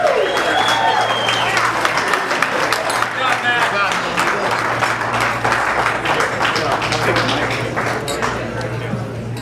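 At a wedding reception, a roomful of guests keeps clapping in a steady, sustained round of applause that lasts several seconds at an even level, with some voices mixed in.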